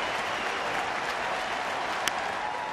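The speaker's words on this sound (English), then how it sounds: "Another great crowd here at Target Field starting to get on their feet" A large baseball crowd at Target Field applauds in a dense, steady wash of clapping and cheering that holds throughout, with one sharp whistle-like accent near the end.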